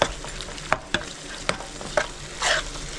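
Ginger-garlic paste stirred into onion paste frying in a pan for chicken roast, with a steady sizzle under several sharp scrapes and knocks of a spoon against the pan, then a brief hiss near the end.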